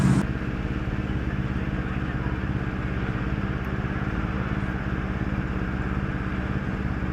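A motorcycle engine rumbles steadily outdoors on a sunny walk, a continuous broadband drone that holds at a fairly even level for several seconds without a clear rise or fall.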